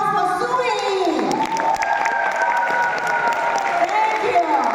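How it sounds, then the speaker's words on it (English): A room full of people claps steadily and warmly, with a few cheers mixed in, while a voice speaks over the applause. "Can we all give a big round of applause for Sui?"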